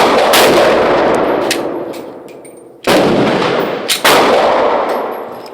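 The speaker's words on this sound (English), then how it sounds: "Glock 19 function test." Glock 19 pistol fired during a function test at a range, a few sharp loud close shots with ringing decay and metallic clinks between them, two main reports about a second apart.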